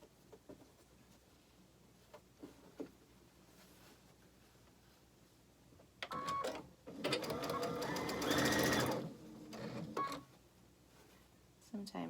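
A sewing machine running a quarter-inch seam on a log cabin quilt block, a short start then a rapid continuous whirring stitch burst lasting a few seconds, with a voice talking around it.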